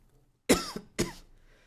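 A person coughs twice in quick succession, close and sharp, with a short pause between the bursts and quiet before and after.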